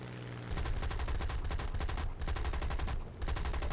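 Aircraft machine guns in War Thunder rattle in long, rapid continuous bursts, loud and dense with brief pauses between strings of fire.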